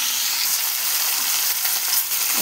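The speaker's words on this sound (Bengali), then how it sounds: "এখন মাছের মাথাটা ভেজে নেব" Rohu fish heads fry in hot oil for a Bengali rohu curry with potato, cauliflower and beans, giving a dense, steady sizzle and crackle close up with no speech.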